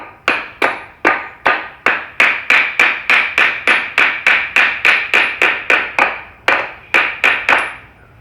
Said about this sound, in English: Plastic old wooden hammer.